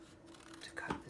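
Scissors snipping out a paper animal craft, soft close crisp cuts in a brief quiet burst.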